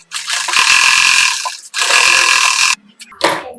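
Sewing machine stitching a blouse's main cloth, running in two loud continuous bursts with a short pause, then a brief mechanical clatter at the end.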